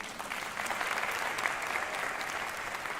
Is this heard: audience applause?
yes